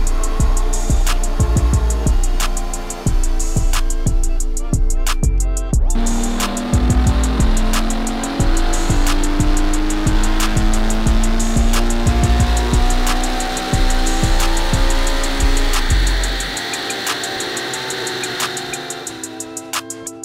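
A tuned Ferrari GTC4Lusso V12 roaring loud and close, with repeated sharp revs rising and falling, some ending in rapid popping, then a long sustained climb before easing off.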